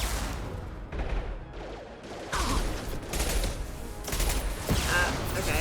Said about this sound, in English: Oh, dude's still sending rockets at us, though.